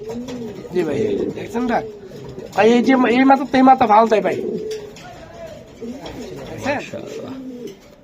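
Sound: racing pigeons cooing

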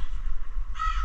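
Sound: crow cawing

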